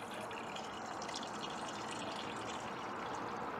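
Hot wort splashing and gushing as it is poured by hand during beer brewing, a continuous loud rushing of liquid with no pauses and no talk.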